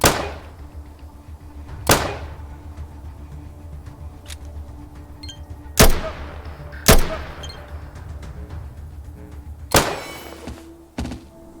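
Single pistol shots fired during weapon testing in ATOM RPG, five or six sharp reports spaced a few seconds apart with short decaying tails and no talk.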